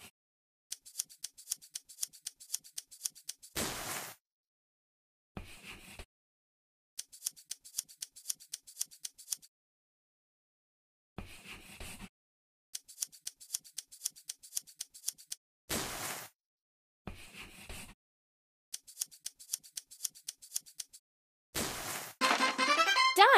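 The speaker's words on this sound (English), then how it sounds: "And now we'll cut out the details." Scissors cutting out fabric pieces in a dress-up sewing video game, repeated quick runs of crisp synthetic snips in regular rhythm, broken by silences and short whooshing effect sounds, with a chiming flourish at the end.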